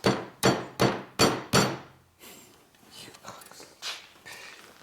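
Five sharp, evenly spaced taps of a small hammer on metal ring out up close, during a Harley-Davidson Twin Cam touring motorcycle transmission rebuild, followed by soft whispering and faint handling noises.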